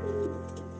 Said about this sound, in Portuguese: As aves iam e vinham, entravam e saíam agitadas, arrulhando alto.